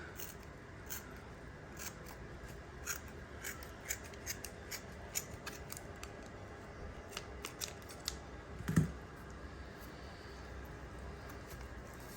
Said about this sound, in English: I run the scissors along this groove.